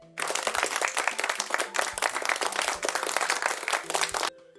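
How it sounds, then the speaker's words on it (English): Sustained round of applause from a university graduation audience greeting a physics graduate, dense crowd clapping loud and steady for about four seconds before cutting off. "First class honours. Round of applause, please."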